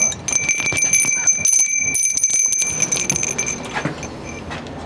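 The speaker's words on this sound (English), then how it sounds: "Wind chimes." Wind chimes ring outdoors near a fence, giving sustained high metallic tones with scattered clinks and jangles that continue over several seconds without speech.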